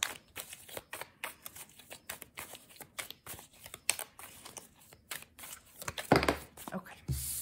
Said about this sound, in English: Shuffle a couple more times just to get that integrated.